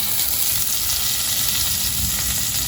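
Curry leaves sizzling as they sauté in a hot pan, a loud continuous close-up hiss and crackle throughout with no voices.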